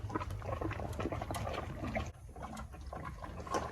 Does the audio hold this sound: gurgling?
yes